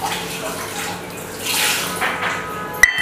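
Water poured into breakfast batter for a weight loss recipe, a splashing, trickling pour close by with a faint hiss, ending with a sharp clink of a utensil.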